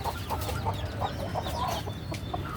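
A quarrelsome hen in a rooftop flock clucks in a string of short, repeated calls over a steady low background rumble, fairly close and moderately loud.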